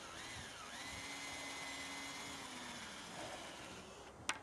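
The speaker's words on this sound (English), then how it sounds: "pre-drill your hole. I drill a little bit at an angle." A power drill pre-drills a hole at an angle into a plain wooden board for a square foot garden frame, running as a steady close whine for about four seconds and ending with a sharp click.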